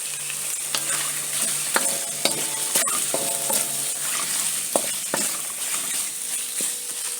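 Chicken and broccoli stir frying in sesame oil make a loud, continuous sizzle up close, broken by repeated sharp scrapes and clacks of a utensil against the pan, with no one talking.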